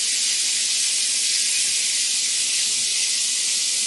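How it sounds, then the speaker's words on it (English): Scallops sear in a hot pan, giving a loud, continuous, even sizzle and hiss close by with no voices over it. "You want to let them get nice and seared on one side before you stir them."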